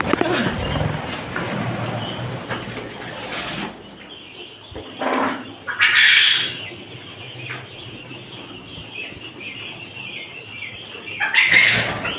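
Quails on a quail farm call and chirp close by, short high bursts over a busy bed of bird chatter, with louder clusters around the middle and end of the stretch.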